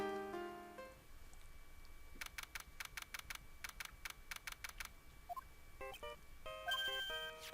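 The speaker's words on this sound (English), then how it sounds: "I kind of want that ringtone" The phone ringtone in the Phoenix Wright Ace Attorney video game plays as a faint electronic melody of tones. It is followed by a quick run of regular beeping pulses and a few more rising chime notes.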